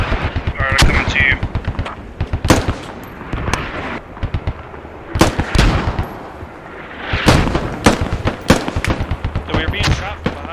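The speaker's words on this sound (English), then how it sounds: "So we're being shot from behind, too." Rapid gunfire from the video game Squad, with dense bursts of automatic fire and sharp single shots cracking close and loud across the whole stretch, mixed with distant shooting and occasional voices over radio chatter.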